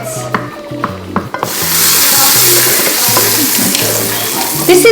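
Onions frying in a pan for Armenian spas yogurt soup: quiet clinks and a low hum at first, then a sudden loud, hissing sizzle that holds steady and close for several seconds.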